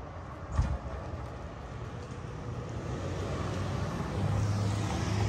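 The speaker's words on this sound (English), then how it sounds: "I'm gonna wait for this car to pass by" A car passing by on a road, a faint steady engine and tyre rumble that grows gradually louder toward the end, with no talking.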